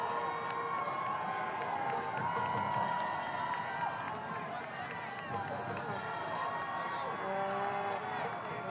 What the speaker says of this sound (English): Panther fans are making some noise.